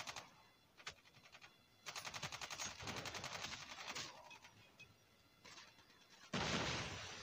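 Rapid automatic gunfire rattles in Call of Duty Mobile, with several fast bursts and single shots at moderate loudness and a louder blast near the end, with no voices.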